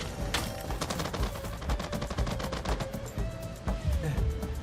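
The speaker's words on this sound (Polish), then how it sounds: "Skąd te strzały?" Rapid bursts of gunfire in the video game Hawked crackle continuously, dense overlapping shots with a few isolated louder cracks, loud and close throughout.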